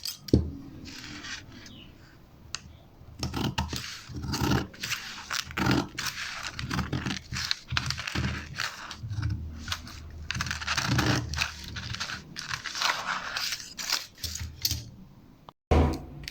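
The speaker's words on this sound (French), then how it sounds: "On coupe." Scissors cutting out a paper bodice pattern for a women's garment: irregular close snips and crisp paper rustles come in clusters with brief pauses, and there is no talk.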